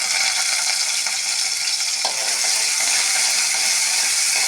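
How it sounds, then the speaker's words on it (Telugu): Onions dropped into hot tempering oil for an onion curry give a steady, bright, close sizzle that holds at an even level throughout, with faint ticks scattered through it. "ఇదిగోండి ఉల్లిపాయ కర్రీ, ఉల్లిపాయ వేస్తున్నా తాలింపులో,"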